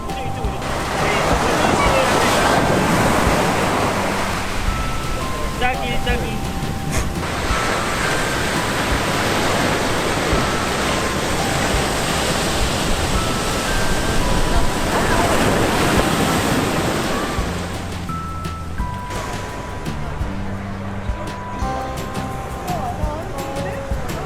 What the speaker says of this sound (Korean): 파도 소리 스케일이 다른데?